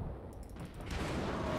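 Warship guns fire in World of Warships, with HMS ships in play. A dense, continuous rumbling boom of naval gunfire fills the moment, loud and sustained, with no speech over it.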